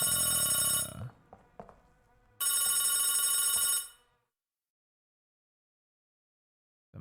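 A phone in the video game Silent Hill 4 rings in two loud electronic bursts about a second long, separated by a short gap with faint clicks, then falls silent.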